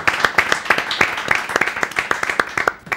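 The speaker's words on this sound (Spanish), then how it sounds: "Fuerte aplauso." Applause and clapping from a crowd at a swimming competition, dense claps with faint voices mixed in, steady and fairly loud for a few seconds.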